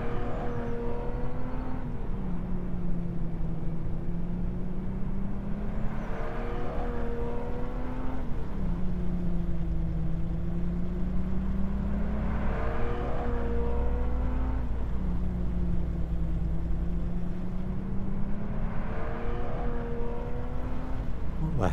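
A car drives alongside a truck in Euro Truck Simulator 2, its engine note rising and falling in repeated sweeps over the steady low drone of the truck's engine, close by and fairly loud.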